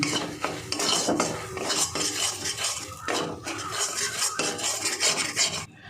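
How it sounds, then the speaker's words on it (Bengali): Gram flour being fried in oil over low to medium heat, with a spoon scraping and stirring briskly against the pan in repeated close, loud strokes. "বেসনটা আমি ভেজে নেব একদম লো টু মিডিয়ামে ভাজতে হবে"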